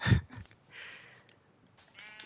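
Several sheep bleat in the Minecraft video game, one close wavering bleat after a soft thump and then another, faint and thin, toward the end, with quiet pauses between.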